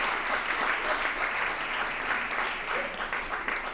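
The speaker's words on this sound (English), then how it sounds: "I think that deserves a round of applause on its own for the three youngest ones." A crowd at a spring sports awards ceremony gives a steady round of applause, many hands clapping at once in a continuous, fairly distant wash of sound.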